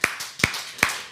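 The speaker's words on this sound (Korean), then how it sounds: "박수로 환영하겠습니다." A church congregation at a dawn worship service claps, heard as three sharp, evenly spaced claps standing out clearly with no talk.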